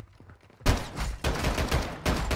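A rocket launcher fires in the Call of Duty Warzone video game, with a loud sudden blast followed by two more heavy booming bursts in quick succession, no talk over them.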